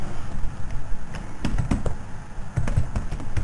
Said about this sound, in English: Gonna type it as WordPad